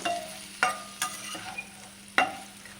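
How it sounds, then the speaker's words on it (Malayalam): Dried fish fried in a pan with dry red chilli and crushed garlic. A low sizzle runs under several sharp clinks and scrapes of stirring, spaced irregularly, with no voices. "അപ്പോൾ ഇത് ഫ്രൈ ചെയ്യുന്ന സമയത്ത് ഇതുപോലെ തന്നെ ഒന്ന് ഫ്രൈ ചെയ്യാൻ ശ്രദ്ധിക്കണം"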